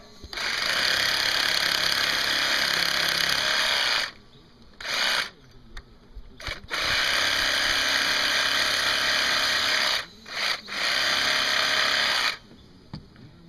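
Reciprocating saw (Sawzall) trimming pipe during a solar pool heater installation, with two long loud buzzing cuts and a few short bursts in between, close and dominant, no speech.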